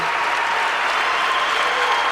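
A basketball crowd of a few thousand in an arena, on its feet and applauding players coming to the bench, giving steady, dense clapping without a break.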